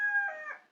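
Rooster crowing close by, a single short loud call that fades out quickly, with no talk over it.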